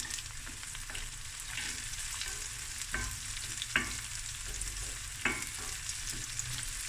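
Onions, whole spices and cashew nuts fry in oil in a pan, giving a steady close sizzle broken by a few sharp clicks and scrapes as a spoon stirs them, with no voices.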